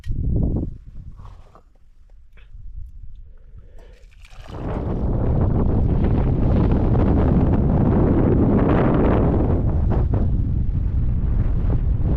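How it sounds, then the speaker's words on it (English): Strong wind gusts buffet the microphone outdoors by Blind Tarn in the Lake District, light at first, then a loud, sustained roar for the second half. "hopefully the winds are not going to blow me away"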